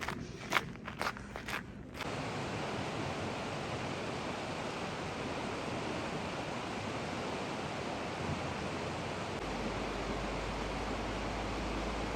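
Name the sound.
icy Boite mountain stream flowing in the Dolomites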